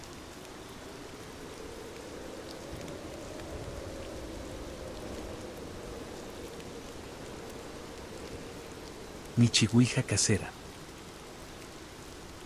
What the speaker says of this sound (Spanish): La lluvia golpeaba el techo del edificio con fuerza